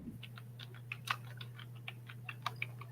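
Someone types on a computer keyboard in quick, uneven clicks, close and quiet over a low steady hum.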